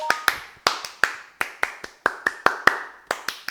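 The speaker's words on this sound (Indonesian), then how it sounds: "Tepuk pramuka." Indonesian scout clap pattern (tepuk pramuka) performed in a kitchen, a rhythmic sequence of about fifteen sharp, close hand claps in grouped beats with short pauses, loud and crisp with nothing else under them.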